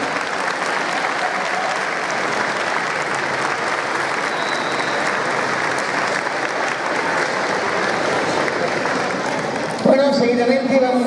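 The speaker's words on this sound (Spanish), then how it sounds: "Bueno, fuerte el aplauso." Sustained, dense applause from an audience honouring a municipal music band at a gathering of bands in Tazacorte, steady and close for about ten seconds before a voice briefly cuts in at the end.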